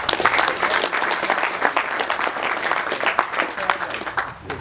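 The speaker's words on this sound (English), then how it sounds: "Give her a round of applause." A small co-op meeting audience claps for an introduced guest, brisk irregular hand claps close by, fairly loud and steady before tapering off at the end, with a few voices beneath.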